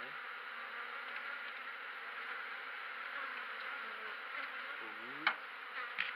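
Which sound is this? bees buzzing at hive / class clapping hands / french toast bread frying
bees buzzing at hive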